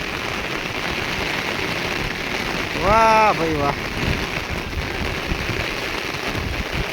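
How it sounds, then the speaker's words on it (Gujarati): Steady rain hisses broadly over farm fields in Banaskantha, India, with a man briefly exclaiming in the middle over the constant downpour. "કેવો વરસાદ પડી રહ્યો છે મિત્રો"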